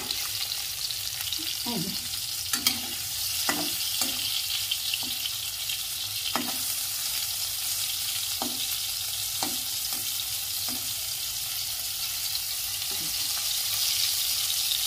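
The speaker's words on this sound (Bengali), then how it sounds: "দেখো আমি কই মাছটা যে ভাজি করছি" Koi fish frying in oil in a wok, a steady close sizzle running the whole time with scattered soft clinks and stirring scrapes, no voices.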